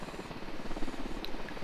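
Helicopter in the tactical shooter game Ghost Recon Wildlands, a steady rotor drone filling the short stretch at moderate level with no gaps.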